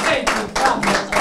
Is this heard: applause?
yes